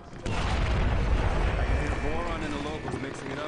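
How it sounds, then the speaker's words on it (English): Explosions in the stealth video game Splinter Cell Blacklist: a heavy boom erupts with a deep rumbling low end and windy roar that slowly fades over a few seconds. "I got hit by the explosions"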